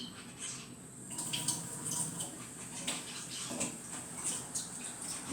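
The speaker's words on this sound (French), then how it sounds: "Allez, on va mouiller un peu le moule." Cold water runs steadily from a tap to wet a mould, a soft continuous splash and patter with brief louder spurts, heard close and without speech.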